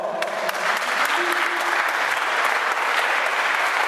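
A conference audience in Paris claps long and hard for a speaker presenting work on computerizing Mandombe script, sustained crowded clapping at full strength with a faint voice briefly under it.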